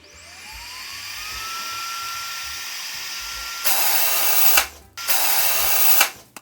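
A homemade confetti cannon: a fan whines as it spins up, then two loud rushing blasts of air fire in quick succession before cutting off.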